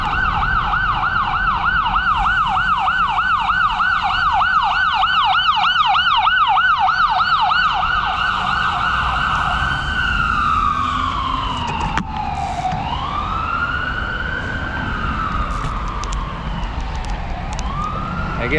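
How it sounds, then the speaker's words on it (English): An ambulance siren passes through the city streets, loud and close, first wailing in fast rising-and-falling cycles, then sweeping more slowly, with traffic noise underneath. "There goes the ambulance."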